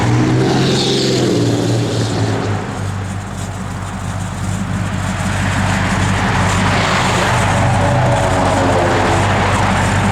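Steady road traffic rumbles past outdoors for the whole stretch, a continuous broadband engine and tyre wash with a strong low hum, swelling slightly as vehicles go by, no voices.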